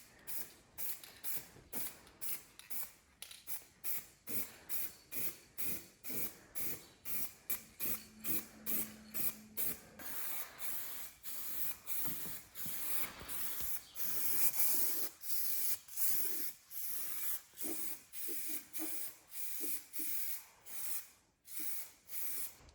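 A spray can is used to paint a tractor toolbox, giving a long series of short rhythmic hissing bursts close by, with faint rattles and creaks between the sprays.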